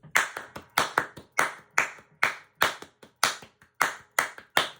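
Hands clap a steady rhythm in nine beats, sharp and close, with louder accented claps recurring among softer ones and no talking.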